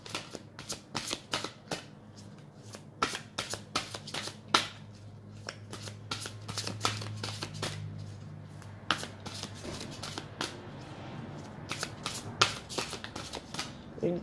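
Tarot cards are shuffled by hand in a steady flurry of crisp riffling snaps and soft slides, close and fairly quiet, continuing with little pause and no talk over them.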